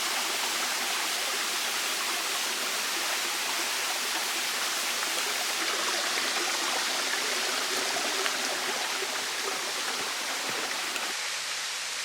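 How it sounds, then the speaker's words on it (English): Middle Black Clough waterfall in the Peak District, a continuous close rush of falling and tumbling stream water, steady and broadband with no break and no voices. "let's wave bye-bye to the Middle Black Clough waterfall"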